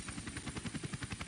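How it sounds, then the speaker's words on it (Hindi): A helicopter sound effect in a Hindi audio comic, with rapid rhythmic rotor thumps pulsing steadily under a constant whine, close and loud over a short burst. "नागराज ने हेलीकॉप्टर सुप्त ज्वालामुखी पर उतारा"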